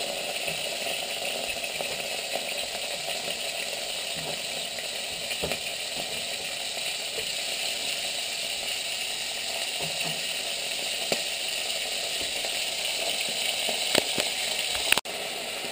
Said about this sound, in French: une fois que tous les morceaux de viande ont été saisis un par un